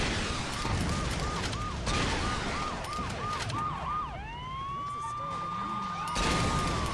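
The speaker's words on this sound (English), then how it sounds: "Police car, please stop." A police car siren in the video game Saints Row 2 wails in a rapid repeating yelp, then sweeps into long rising and falling tones, loud and close over game noise.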